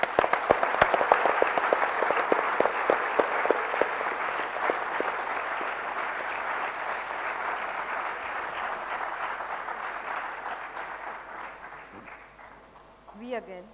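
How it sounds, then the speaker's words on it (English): An HR Conclave audience at IIT Kharagpur claps steadily in a sustained round of applause that slowly fades, and a voice briefly speaks at the end. "let's have a huge round of applause for everyone in attendance today"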